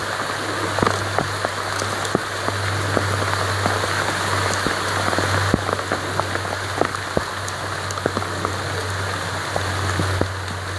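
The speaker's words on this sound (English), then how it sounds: "Man, it's raining like crazy." Heavy rain pours down steadily, a dense close hiss with scattered sharp drop impacts, alongside a constant low electrical hum throughout.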